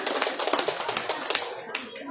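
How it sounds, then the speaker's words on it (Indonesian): A small crowd at an Indonesian Independence Day eve community gathering claps in scattered, uneven bursts, with individual hand claps standing out while people talk over it. "Pidato yang menggelegar dari saudara Alfat, beri tepuk tangannya."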